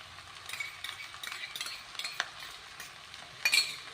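Vegetable noodles stirred in a pan with tomato sauce, a steady soft sizzle under repeated scraping and stirring strokes, with a sharper clatter near the end.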